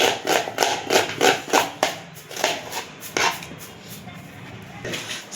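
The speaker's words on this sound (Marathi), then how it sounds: "आता कांदा कापायचा" A knife chops onion on a board while a chicken dish is being prepared. Roughly eight crisp, evenly spaced chops sound up close, fading a little toward the end against a low background murmur.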